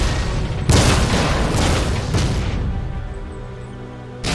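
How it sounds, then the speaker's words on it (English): Loud gunfire and booming explosions from a WWII tank battle in the game Codename Panzer at El Alamein, a dense rolling barrage for about two seconds that then thins out and fades, with a fresh burst at the end. "They are shooting at us!"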